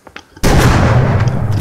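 A double-barrel 12-gauge shotgun fires once in the video game Rust, a sudden loud blast followed by a rough, noisy decay after a few soft clicks.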